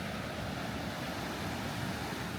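Ocean surf rolls in on the shore of the Indian Ocean in Kenya in the early morning, a steady, broad wash of breaking waves mixed with light wind, no talk.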